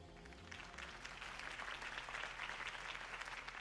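In the Batman Telltale video game, a crowd breaks into sustained applause after Harvey Dent's campaign speech, a steady wash of many hands clapping that swells slightly and continues unbroken, with no talk.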